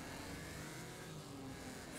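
A race car engine in Wreckfest drones steadily and faintly, a continuous mid-pitched hum with slight pitch wavering and no talk.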